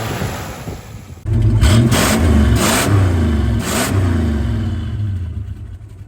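A survivor 1965 Plymouth Barracuda with a tired 273 V8 revs up sharply from idle, rising and falling through several throttle blips before settling back into a rumbling idle, loud and close.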